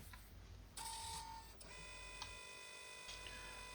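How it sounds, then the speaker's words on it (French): A Brother colour label printer feeds out adhesive labels with a faint, steady mechanical whir and a short higher-pitched motor burst, quiet and close in a still room. "Nous allons ainsi imprimer les étiquettes qui viendront se positionner près des têtes de chauffe"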